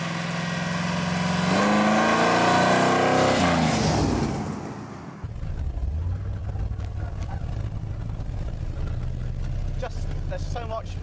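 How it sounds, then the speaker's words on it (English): A custom Lawrie Special pickup truck pulls away hard from a junction with power to the rear wheels. The engine note climbs loudly, then drops to a lower, rougher rumble while someone talks over it. "Power at the back end, just pulling away out of that junction."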